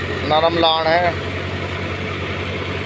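A Swraj 99-2000 model tractor engine hums steadily under heavy load, a low continuous drone running beneath a man's speech throughout.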